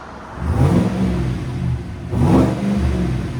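Two hard revs from a 2026 Chevy Silverado Trail Boss 5.3L V8 with a Borla Touring cat-back exhaust, each swelling into a raspy, booming exhaust note, with a low idle rumble in between.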